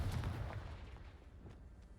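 A Confringo blasting spell explodes in Hogwarts Legacy, a deep booming burst at the start that rumbles and fades over two seconds, fairly quiet with no talking.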